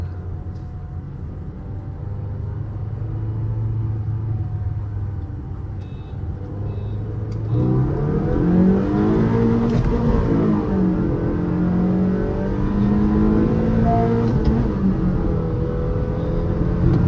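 Honda Elevate and Škoda Kushaq 1.0 TSI cars run a rolling drag race from about 20 km/h in first gear, engine drone rising sharply midway into loud, strained acceleration with shifting pitch sweeps, no voices.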